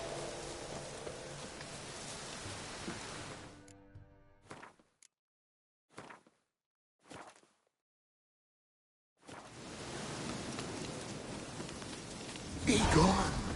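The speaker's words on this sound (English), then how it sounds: "Looks like rain." Rain falling in the video game Witcher 3, a steady hiss of rainfall that cuts out into near silence with a few brief bursts midway, then returns and swells louder near the end.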